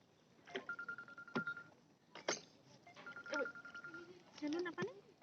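A telephone being dialed for a call, with steady electronic keypad tones that sound in two separate bursts while people talk nearby throughout.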